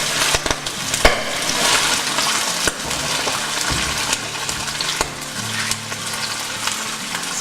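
Hot oil spits and crackles in a frying pan after a little water gets in while a Maltese corned beef pie is being made, with a dense, loud sizzle punctuated by sharp pops throughout.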